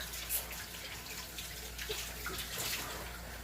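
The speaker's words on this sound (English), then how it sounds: "Let me just wash my hands real quick." Running tap water washing hands at a kitchen sink while cooking, a steady soft splashing hiss with faint drips, fairly quiet and alone without talk.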